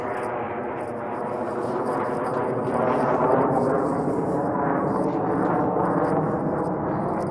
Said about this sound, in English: Oh, so you get to hear what the planes sound like.